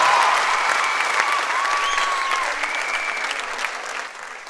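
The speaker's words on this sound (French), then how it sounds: "On peut l'applaudir très très fort, s'il vous plaît" An audience applauds a young performer at a talent show, dense clapping that starts strong and slowly fades, with a few faint whistles or squeaks above it.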